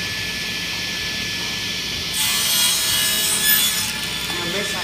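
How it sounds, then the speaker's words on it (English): A saw makes a taper cut through a wooden seat piece, a steady loud hissing whine that swells as the blade bites into the wood, then settles back to a running hum. "I'm ready for my first taper cut."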